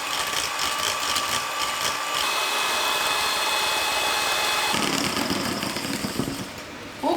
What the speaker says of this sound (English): You are gonna need an electric whisk for this.